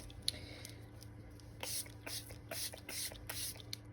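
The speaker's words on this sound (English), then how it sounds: "I'm about to spray my face" Several short, soft hissing bursts of setting spray come from a pump bottle misted onto a face at close range, quiet and irregular over low background hum.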